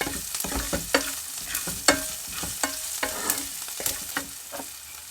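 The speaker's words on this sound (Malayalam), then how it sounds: "ഉപ്പ് ചേർത്ത് കൊടുക്കുകയാണ് എന്നിട്ട് നന്നായിട്ടൊന്നും കൂടെ മിക്സ് ചെയ്യാം" A spoon stirs and scrapes through sizzling eggplant curry seasoned with salt in a hot pan, making steady rhythmic strokes over a constant close frying hiss, with no voices.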